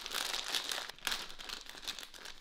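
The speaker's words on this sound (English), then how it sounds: "Okay, let's go ahead and open up the noodles." Plastic packet of ramen noodles being torn open and handled in a kitchen, a steady run of close, crisp crinkling with a few sharper tearing bursts, no talking.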